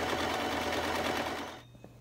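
A sewing machine stitches a medium-width zigzag on a box pillow, a fast loud rattling hum that runs steadily, then stops near the end, leaving a faint hum.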